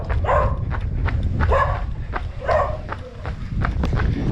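Dogs bark during a trail run on the Mare a Mare Nord route, several rhythmic woofs, close and fairly loud, over a rumbling outdoor background with no talk.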